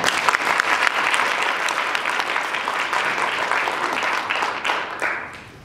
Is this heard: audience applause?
yes